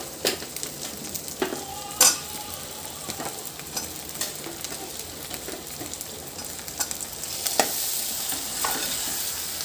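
Drumsticks fry in oil with tomato, sizzling steadily while a spoon stirs and scrapes the pan, with scattered metallic clinks and a louder knock early on; no talking.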